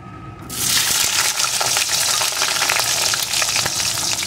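Potato pieces hit hot mustard oil in a wok and burst into a loud, continuous sizzle that starts abruptly after a brief quiet moment and keeps crackling steadily.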